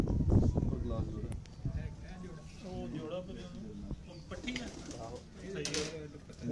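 Pigeons, including a large, soft-feathered breeder hen paired with a mate, coo softly in repeated low phrases while someone talks over them nearby.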